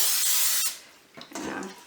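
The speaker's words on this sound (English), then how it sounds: "I'm just going to spray some of the Pam into the muffin tray" A bright aerosol spray of Pam cooking spray hisses steadily into a muffin tray for a moment, then stops, followed by soft handling sounds and a brief murmur.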